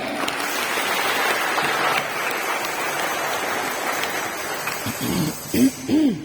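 A church crowd clapping steadily in a dense, rain-like patter, fading toward the end as a voice begins to speak.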